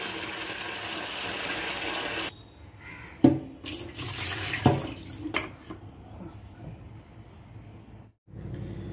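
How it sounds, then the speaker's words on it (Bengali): Tap water runs strongly into a kitchen sink to soak matar dal, then stops and gives way to quieter splashes and a couple of clunks before the flow briefly returns. "মটর ডাল একটু ভিজিয়ে দিচ্ছি, তাড়াতাড়ি সিদ্ধ হয়ে যাবে, একটু ভিজিয়ে রাখি"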